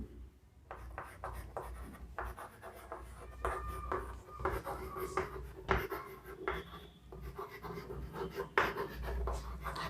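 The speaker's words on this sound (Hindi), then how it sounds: "मैं जल्दी से लिख रहा हूं, फिर बताता हूं आपको।" A pen writes quickly by hand on paper in a chemistry lesson, giving faint, close scratching strokes with small taps and pauses, steady throughout at low volume.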